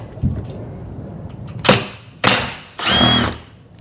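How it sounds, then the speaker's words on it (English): An impact wrench removes rear bumper bolts on a 2021 Ford Bronco in three loud, close hammering bursts in quick succession, the last one the longest, with faint background noise between them. "I'm gonna use the impact wrench"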